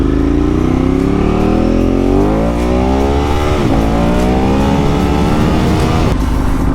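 Ducati 1098 sport motorcycle engine roaring loud and close while riding, revs climbing steadily through a gear, a brief dip at a shift, then pulling hard again as a continuous throaty drone.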